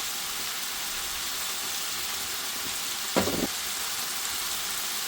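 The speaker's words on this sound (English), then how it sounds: "Next we're going to add our powdered spices." Madras curry powder and other powdered spices sizzle in a frying pan with a steady, even hiss, broken once by a brief clink or stir.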